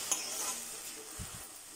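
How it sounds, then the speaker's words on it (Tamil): Broad beans and egg are stirred in a pan over the stove, a faint steady sizzle with a couple of soft scraping strokes near the end, quiet and close. "சேர்த்துட்டு ஒன்றா மிக்ஸ் பண்ணி விட்டுக்கலாம்."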